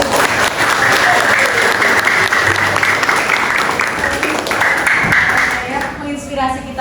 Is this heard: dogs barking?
no